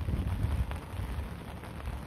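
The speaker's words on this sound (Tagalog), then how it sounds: "Sobrang lakas ng ulan" Heavy rain near the lake village of St. Gilgen on Lake Wolfgang, Austria: a dense, steady roaring wash with low rumbling, like downpour mixed with wind buffeting the microphone.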